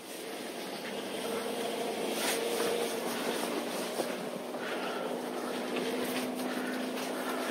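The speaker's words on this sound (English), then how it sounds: "Cooling fans kicking in." Cooling fans on a 2019 Jeep Wrangler Unlimited Sahara 4x4 E-Torque whir in a steady, even rush with a faint underlying hum, continuous and moderately close with no pauses.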